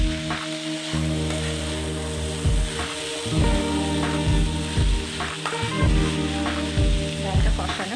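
Cholar dal with spices frying in a pan, a steady close sizzle broken by repeated scraping stir strokes, with a low hum running underneath.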